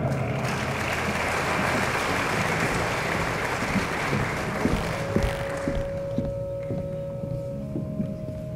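Crowd applause for engineers at a professional college induction ceremony, dense and steady at first, then thinning out as a few scattered claps and a faint steady tone remain.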